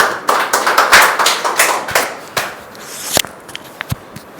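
Church congregation clapping hands together in thanks to God, a burst of fairly quick, uneven claps that thins out into a few scattered, separate claps near the end.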